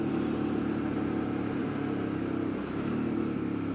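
A Suzuki V-Strom 650 motorcycle rides through bends with a steady, droning engine and wind rumble, close and continuous, with a slight dip in the middle.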